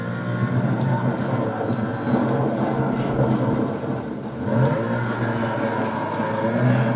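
Car engine and tyres in a Need for Speed racing game during a drift, a steady loud revving drone with shifting pitch sustained throughout, under light background chatter.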